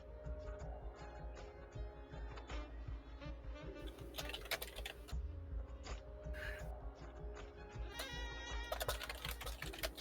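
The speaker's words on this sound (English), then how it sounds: "Yeah, I'm typing." Computer keyboard typing, a run of light, fairly close key clicks in an uneven rhythm over a low background hum, with occasional sharper taps.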